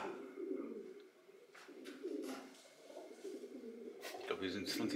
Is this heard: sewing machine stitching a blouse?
no